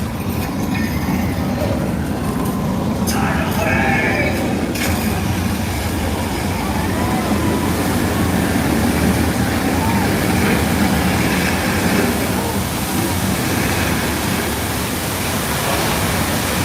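Loud, steady rumble and rushing noise from a train ride at Universal Studios Hollywood, a continuous wash of low roar and hiss with no clear breaks, sounding close and enveloping throughout.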